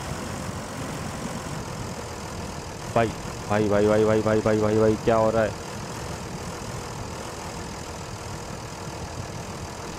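A heavy tractor engine in the SnowRunner video game drones steadily at idle, a constant low rumble throughout, while a voice calls out repeatedly for a few seconds midway.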